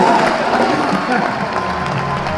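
Audience applause with some cheering fills the space continuously and loudly, a dense wash of clapping from a crowd, with voices mixed in.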